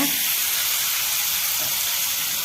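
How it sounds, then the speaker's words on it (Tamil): A large bunch of coriander leaves fries in oil in a pan over a slow flame, making a steady, close hiss and sizzle that holds evenly throughout with no talk. "நல்லா பெரிய கட்டு கொத்தமல்லி இந்த எண்ணெயில் வதக்கிக்கலாங்க."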